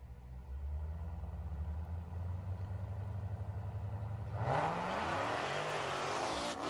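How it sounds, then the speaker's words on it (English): Jeep Grand Cherokee Trackhawk with a supercharged engine, idling with a low steady rumble before revving hard, its pitch rising with a high whine over the roar. "The only thing whining is the supercharger."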